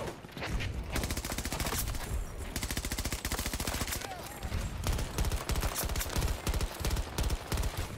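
Sustained automatic gunfire in the video game Battlefield 2042, loud rapid bursts of shots rattling almost continuously with brief pauses, close and dense.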